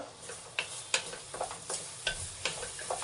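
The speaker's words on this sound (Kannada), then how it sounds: "ಇದೊಂದು ಟೊಮೆಟೊ ಪೇಸ್ಟ್ ಹಾಕಿದ್ದೀನಿ ಸ್ವಲ್ಪ ಫ್ರೈ ಆಗಬೇಕಿದು" Tomato paste frying in a pan with eggplant for a tangy gravy, a soft, quiet sizzle punctuated by small ticking spatters and pops at irregular intervals.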